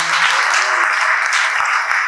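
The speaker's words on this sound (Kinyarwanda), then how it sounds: "Ikomera amashyi yo Mana" Applause from a church congregation, a dense, loud, continuous clapping that fills the room for a couple of seconds.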